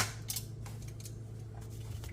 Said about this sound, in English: I have to use my scissors and cut it